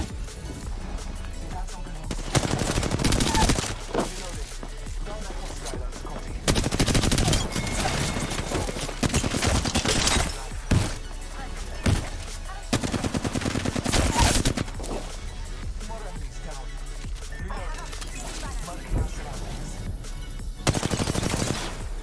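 Repeated loud gunfire bursts from a first-person shooter video game, with blocks of rapid shots and machine-gun fire separated by short lulls, with occasional talk in between.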